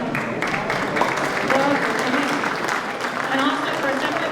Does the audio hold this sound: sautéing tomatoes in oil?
no